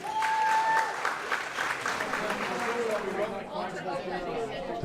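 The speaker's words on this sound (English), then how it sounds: "So please give them a big round of applause for what they do." Audience applause at a charity event honouring families of fallen firefighters and police at Service Brewing Company, sustained clapping from a sizable indoor crowd with chatter, gradually thinning out.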